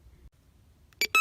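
Bounty Hunter Time Ranger metal detector giving two short, sharp electronic beeps close by after near silence.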